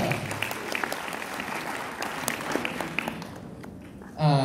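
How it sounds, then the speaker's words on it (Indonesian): An audience applauds for Prudential at a presentation event, a dense, steady wash of many hands clapping that holds evenly for several seconds before breaking off, with a brief voice near the end. "Tepuk tangan dong buat Prudential"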